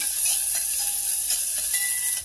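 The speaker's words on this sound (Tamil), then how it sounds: "இந்த கழுவி வச்சுருக்கிற பாசிப்பருப்பு அதை நல்லா வறுத்துக்கலாம்" Washed moong dal roasts in a pan, producing a continuous dry, bright hiss with soft rustling from stirring, close and fairly loud.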